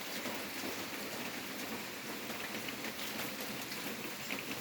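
Steady rain pours down outdoors at a bamboo-working site, making a dense, even hiss that continues without a break, with no voices heard.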